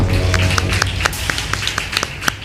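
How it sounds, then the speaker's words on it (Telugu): Scattered hand claps from a church congregation at a Telugu Christian service, sharp irregular claps over a low steady hum and background murmur. "ఆయన క్లాప్స్ కొట్టుదాం ఈరోజు"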